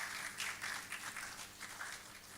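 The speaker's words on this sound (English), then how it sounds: "Another round of applause for Hebe" Steady applause from an audience at an open mic poetry night, a dense wash of clapping filling the whole stretch with small surges and no voices on top.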